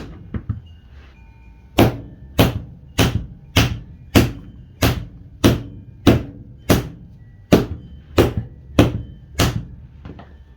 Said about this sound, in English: The shock of hitting it with a hammer sometimes helps it pop up on the bead.